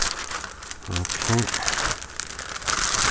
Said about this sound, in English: Right, you've got a big plastic bag. Give the bag a shape, make sure there's nothing in there.